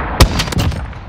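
A sniper rifle shot in Call of Duty Modern Warfare cracks loud and close, a single sharp report followed by a second, softer blast and a brief rumbling tail.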